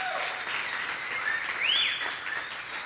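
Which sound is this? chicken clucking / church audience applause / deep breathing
church audience applause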